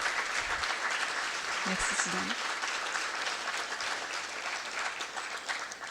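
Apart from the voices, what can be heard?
audience applause for a former mayor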